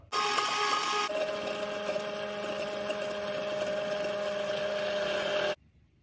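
A blender or mixer whirs steadily for about five seconds while homemade mayonnaise ingredients, with sugar, salt and MSG, are mixed. The motor gets louder and holds a constant pitch, then cuts off abruptly. No one talks.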